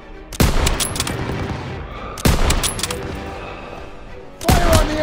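Machine-gun fire in the World War II shooter game Call of Duty: WWII. Three loud, close bursts of rapid automatic fire each trail off into a rumbling decay, with no voices over them.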